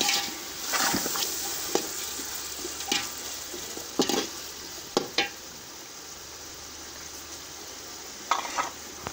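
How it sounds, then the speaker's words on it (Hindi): Chopped potatoes fry in a spiced masala of garam masala and cumin for aloo matar pulao, a low sizzle broken by scattered sharp clinks of a spoon stirring against the pot. "अब हम इसमें 200 ग्राम कटे हुए आलू डालेंगे"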